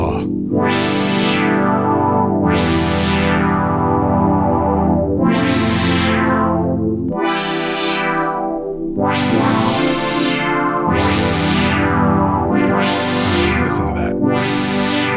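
Bright, buzzy notes from a GS Music Bree6 analog polyphonic synthesizer swell and decay one after another, each with a sweeping filtered tail, processed with chorus-like digital effects.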